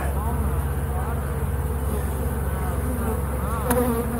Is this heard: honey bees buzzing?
yes